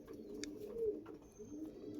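Andhra pigeons coo softly and low, a faint murmuring coo running through the short stretch with a brief brighter chirp near the start, quiet and without speech.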